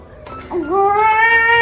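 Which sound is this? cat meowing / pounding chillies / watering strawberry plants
cat meowing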